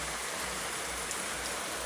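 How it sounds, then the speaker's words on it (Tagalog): Steady, dense rain hiss with no gaps, a heavy downpour heard close by, no voices. "sobrang ulan na dito"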